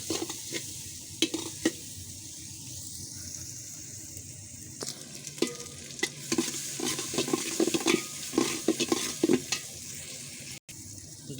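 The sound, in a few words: onion, garlic and chilies frying and being stirred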